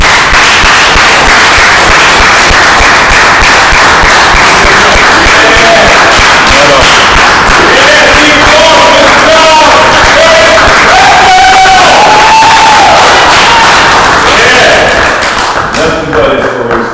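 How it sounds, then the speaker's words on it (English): Audience at a live spoken-word performance breaking into loud, sustained applause and cheering, dense clapping with voices rising over it, close and continuous for the whole stretch. "Give it a round of applause."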